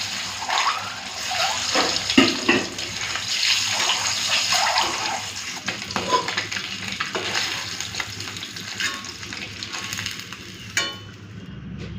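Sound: eggs frying in hot mustard oil with salt and turmeric

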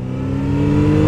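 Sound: car engine revving while accelerating

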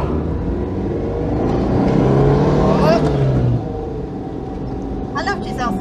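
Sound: classic car engine accelerating

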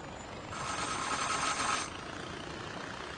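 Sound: helicopter engine in video game Far Cry 4

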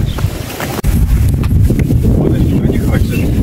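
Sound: strong wind blowing outdoors

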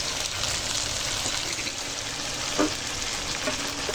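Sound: ginger garlic paste frying in pan for chili chicken

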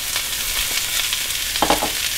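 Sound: onions frying in olive oil

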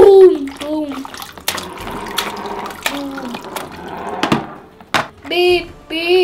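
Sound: water splashing

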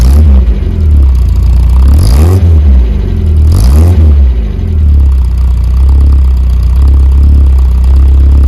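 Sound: Bond Bug classic car engine starting and running

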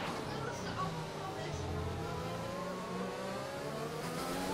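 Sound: Formula 1 car engine revving in video game

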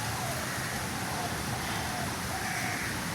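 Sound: rain falling

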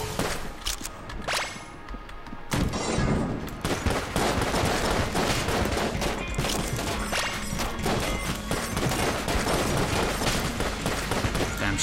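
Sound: shadow bullets gunfire in the video game Enter the Gungeon

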